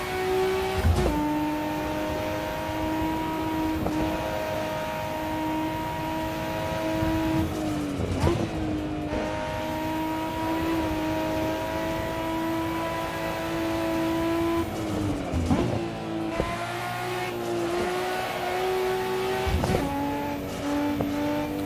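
A car drifts around the Nordschleife in the racing game Assetto Corsa, its engine holding a steady high whine that swoops and dips with each throttle change, joined by brief tire squeals. The game sound plays loud and continuous, with no talking.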